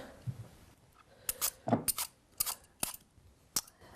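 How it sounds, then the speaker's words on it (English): Apples being peeled by hand for a raw vegan apple pie, giving a series of short, crisp scraping and cutting sounds with irregular gaps, close and fairly quiet, with no talk. "we're going to start peeling the apples"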